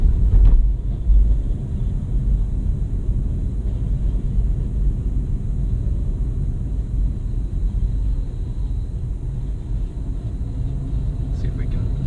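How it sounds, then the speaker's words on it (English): A BMW i3 electric car driving, with a steady low rumble of road and motor noise and a faint high whine running throughout. "Oh, that is such a funny sounding engine."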